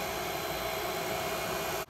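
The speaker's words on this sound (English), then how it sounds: "the same hair dryer going into my modified sine wave 1200 watt modified power jack" A hair dryer runs off a 1200 watt modified sine wave power inverter, giving a steady, loud whirring roar with a constant high whine that cuts off abruptly at the very end.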